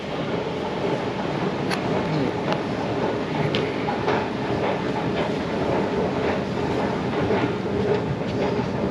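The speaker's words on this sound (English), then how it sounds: "Here's the Paddington train." An Elizabeth Line train bound for Paddington rumbles into a London underground station, a continuous loud roar with rhythmic clicks and a faint high whine throughout.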